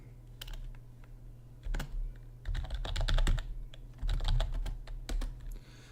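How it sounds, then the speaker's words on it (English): Keys clatter on a computer keyboard in irregular bursts of quick taps, close and fairly quiet, with short pauses between typed runs over a faint low hum. "make sure I was typing this right"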